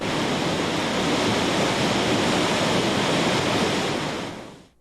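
Waterfall at Rio de Contas in Brazil's Chapada Diamantina, its water pouring in a loud, dense, unbroken rush that fills the air evenly, then fades away at the very end, with no voices.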